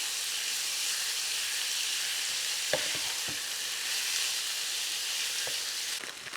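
Homemade cream cheese melts in a pan over lowered heat, giving off a continuous close hiss and sizzle. A few soft knocks and clinks are heard against it, and no one speaks.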